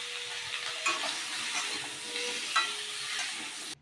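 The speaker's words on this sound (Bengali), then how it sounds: "কুমড়োগুলো ভাজা ভাজি হয়ে এসেছে" Pumpkin pieces frying in a pan with salt and turmeric, a continuous sizzle broken by a few scraping stirs of a spatula, close and fairly loud, with no voice.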